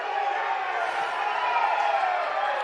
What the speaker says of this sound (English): Crowd got loud, so not sure what he's done there, but plenty of cheers for Schreiner